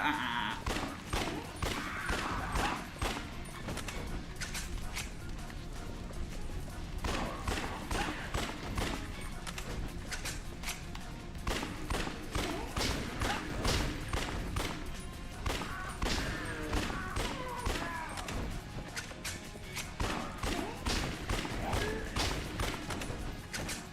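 Rapid automatic gunfire in the zombie video game Yakuza Dead Souls rattles in dense bursts of sharp shots and impacts, loud and sustained over game music and effects.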